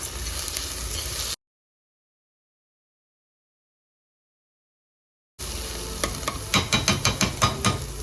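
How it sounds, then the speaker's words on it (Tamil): Onions and tomatoes sautéing in a pan for veg kurma: a steady sizzle with clinking stirring scrapes, cut by a long stretch of silence before the frying and stirring return with sharper spoon knocks. "இப்போ வெங்காய தக்காளி வதங்கிட்டு இருக்கு."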